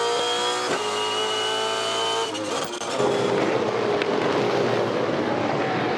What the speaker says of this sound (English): Early days in this 2015 championship as you ride with Fabian Coulthard in the Freightliner entry